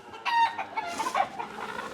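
Hens cluck softly in short, quiet bursts, a faint murmur of desi (country) chickens about six months old calling, with light background noise.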